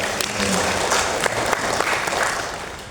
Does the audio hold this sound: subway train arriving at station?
no